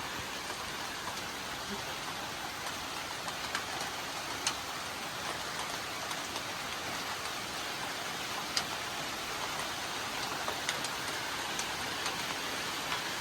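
Steady rain falls on an open farm field, a dense even hiss with faint scattered drop ticks, close and continuous with no talking.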